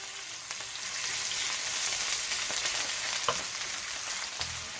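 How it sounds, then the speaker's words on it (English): Smoked meat sautéing in hot oil for stewed cabbage sends up a continuous loud sizzle. A couple of faint stirring knocks sit over it, and nobody speaks. "I am going to add my smoked meat, and I am going to saute it a little just to release some flavor"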